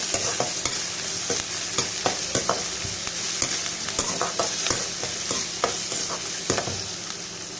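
Sliced onions, curry leaves and cumin fry in hot oil in a pan for a bitter gourd palya, giving a steady close sizzle broken by regular scraping strokes of a stirring spoon, with no talking.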